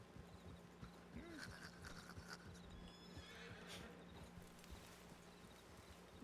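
A saddled horse in a Red Dead roleplay video game neighs and whinnies over clip-clopping hooves, with a steady low hum underneath and the sound fairly quiet throughout.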